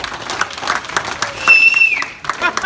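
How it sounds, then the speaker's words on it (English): Applause from a Christmas party crowd, a brief burst of clapping with cheering voices and a whistle-like tone rising through it, fairly loud and close. "Give them a big round of applause."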